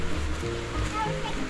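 Cold stream water flows steadily close by in a rural Virginia creek, a continuous watery rush with faint voices of a family and children mixed in near the end.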